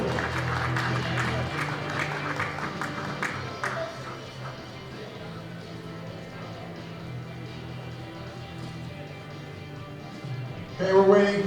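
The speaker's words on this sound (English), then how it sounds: "please extend to our athletes one big round of applause." Moderate applause from a crowd greeting athletes at a world powerlifting championship, strongest at the start and then thinning into murmuring and arena noise, with a brief louder sound at the end.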